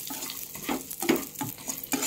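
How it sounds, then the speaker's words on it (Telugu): Small walnut pieces are stirred and dry-roasted in a pan, giving repeated scraping strokes over a soft, steady sizzle at close range. "ఇప్పుడైతే బాగా కొంచెం రోస్ట్ చేద్దామండి."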